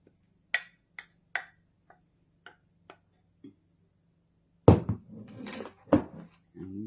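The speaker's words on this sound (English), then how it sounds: "we're going to mix our wet ingredients in with our dry" Banana bread batter is being stirred as wet ingredients go into dry: a string of light taps of a utensil against a bowl, then a busier run of scraping and clattering mixing sounds, close and fairly quiet.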